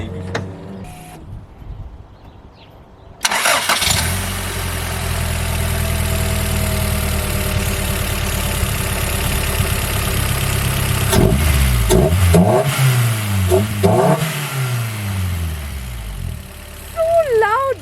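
Honda VTEC car fitted with a velocity stack: a few quiet sounds, then the engine cranks and catches with a loud start, settles into a rough idle, and gives several sharp revs that rise and fall near the end.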